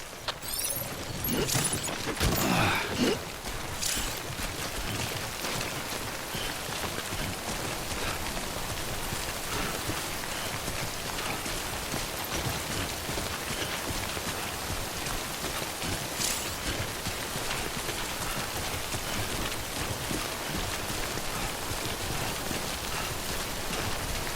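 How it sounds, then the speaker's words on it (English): Timefall rain in the video game Death Stranding pours as a continuous, even hiss of drops pattering on surfaces, with a few louder splashes near the start and no voices. "Don't stay out in the rain any longer than you have to."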